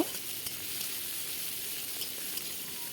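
Onion and chopped tomato sizzle steadily in a pan for egg curry, a continuous close frying hiss with faint stirring and no voices.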